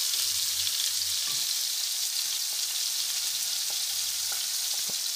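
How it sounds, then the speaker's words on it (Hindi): Potato samosa filling fries in a pan with cumin, turmeric and salt, a loud, continuous, even sizzle with a few faint clinks and stirring sounds underneath and no talking. "बस ज़्यादा नहीं इसको भूनना है।"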